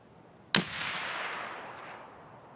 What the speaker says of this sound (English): My weapon is a modded SV-98, and I'm shooting the T-46 tracer rounds.